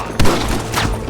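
Loud, close volleys of gunfire from a Red Dead Redemption shootout, a quick burst of overlapping shots.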